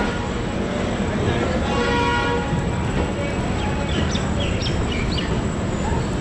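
Una Jan Shatabdi Express pulling out of Ambala Cantt station, a steady loud rumble of the train with bright whistle-like toots and station noise blended over it.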